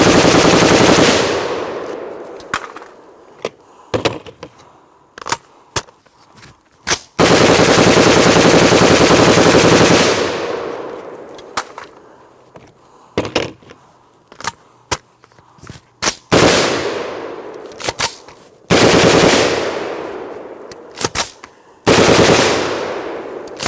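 M16 rifle fired on full automatic in repeated bursts, each a loud, dense rattle of rapid shots lasting a second to several seconds, separated by short pauses and single stray shots, close and unaccompanied by talk.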